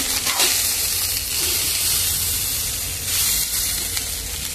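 Fried rice sizzles and hisses steadily in a hot pan as it is stir-fried, a continuous loud frying crackle with faint scraping, and no voices.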